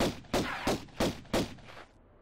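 An enemy fires a gun in Tomb Raider (1996): five evenly spaced sharp shots in quick succession, loud and close, ending with a brief fading tail.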